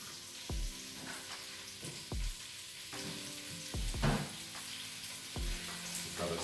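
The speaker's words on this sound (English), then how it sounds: "Drop those into the pot as well." Vegetables drop into a hot stew pot, landing as four or five separate soft thumps spaced a second or so apart over a steady background sizzle, heard alone.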